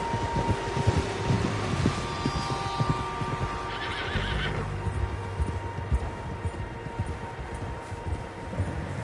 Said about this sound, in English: Tracks. Horses, quite a few of them.